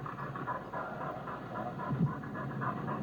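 Quick, rhythmic dog panting close by, steady breaths over a faint background hiss.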